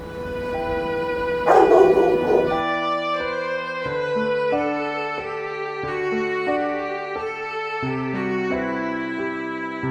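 A Chow Chow dog in pain, held by the muzzle with a restraint, gives an early burst of harsh noise and then steady whining, whimpering yelps that rise and fall. The sound is loud and close, with no talk.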